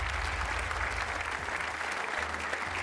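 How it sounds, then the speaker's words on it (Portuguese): A studio audience applauds on a Portuguese television game show, dense, steady clapping filling the room loudly from start to finish with a low hum beneath. "um aplauso para o Celestino, que começa com calma"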